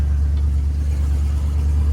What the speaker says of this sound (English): Motor sounds good, no issues there.